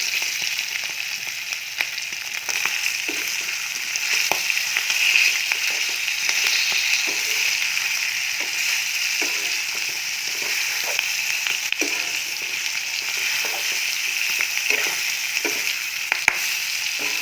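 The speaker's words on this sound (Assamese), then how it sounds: "এতিয়া মই মধ্যমীয়া জুইত 10 মিনিট ভাজিম।" Pork and taro pieces fry in a pan over medium heat, giving a steady, dense sizzle with crackling pops and occasional stirring clicks throughout, close and even in level with no voices.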